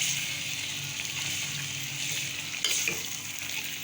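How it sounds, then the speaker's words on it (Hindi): Hand-chopped keema fries for keema karahi, a steady, dense sizzle close by, with a brief clatter of a utensil against the pan near the end. "2 मिनट से हम भून रहे हैं।"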